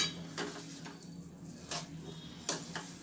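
Grated coconut and crushed pistachio are stirred in a pan for Gujarati gundar pak. A spoon scrapes close up in steady strokes, with about five distinct scrapes in quick succession and no talking.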